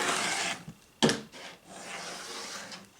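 Rotary or blade trimming along a quilting fabric edge on a cutting mat while making a table topper: a single sharp cutting stroke near the middle, between softer rubbing and handling sounds, close and fairly quiet.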